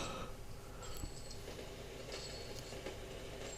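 Train in the Railroads! video game, a quiet rolling rumble with faint metallic squeals and light clicks, steady and low in level, no talk.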